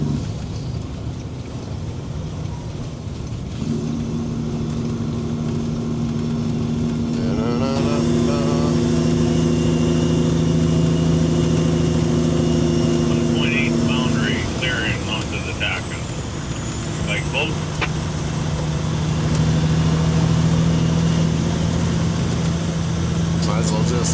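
Rig mover truck engine climbing to high RPM, a loud sustained roar with strong harmonic drone that rises and shifts pitch as revs build, close by inside the cab, with voices talking over it.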